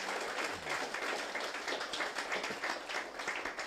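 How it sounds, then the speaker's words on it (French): A church congregation at a Sunday service applauding together, a steady dense wash of many hands clapping at moderate distance, sustained without pause. "On applaudit le Seigneur."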